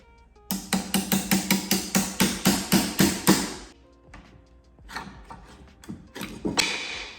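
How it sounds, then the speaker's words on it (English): A quick series of about a dozen sharp hammer strikes driving hardware pins through a wooden nightstand, evenly paced and close, then scattered quieter knocks and handling clatter. "I ended up hammering the pins back through"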